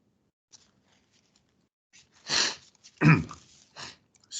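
Quiet room, then a few sharp nasal sniffs and snorts close by, one after another, with silence around them.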